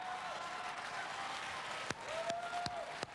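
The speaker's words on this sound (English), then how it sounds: "Give yourselves a round of applause." Audience applause at a large national live event, a dense, even roar of clapping filling the room, with a few sharp louder claps and a thin whistle-like tone cutting through near the end.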